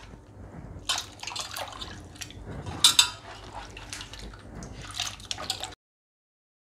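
Sliced potato wafers being rinsed in a second change of water, with close, irregular splashes, drips and squishy handling sounds and light clinks of a pot, easing off into silence near the end.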